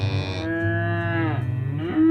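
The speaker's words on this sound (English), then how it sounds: "Mary and Laura, you hurry with the cow to meet the herd." A single cow lets out a long, loud, drawn-out moo close by, rising at the end, with no other sounds.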